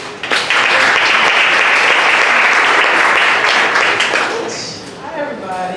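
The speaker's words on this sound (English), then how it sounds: "Let's give her a round of applause" Loud, full audience applause at a 1 Million Cups Dallas startup gathering, swelling quickly and holding steady for several seconds before tapering off as a voice begins speaking.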